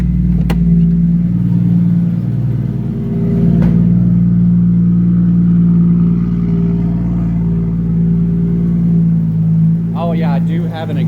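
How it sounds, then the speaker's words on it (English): Turbocharged Lexus IS300 engine idling loudly and steadily with a rough drone, slight rev swells and a faint ticking from an exhaust leak at a cheap gasket, someone speaking near the end. "I do have an exhaust leak because my dumbass used that cheap gasket, eBay gasket they send you."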